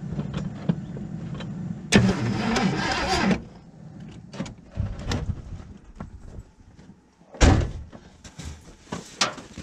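A 1980 Ford Bronco that has sat unstarted for 18 months cranks and tries to start. Two loud, close bursts of cranking and engine roar stand out against quieter mechanical clatter and handling noises between them.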